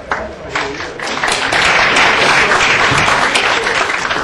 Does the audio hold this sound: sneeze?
no